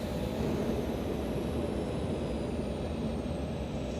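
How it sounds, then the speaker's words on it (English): Airliner engines throttling back to 70%: a steady, dense low roar fills the cabin without letup, with no voices. "We need to throttle back to conserve fuel."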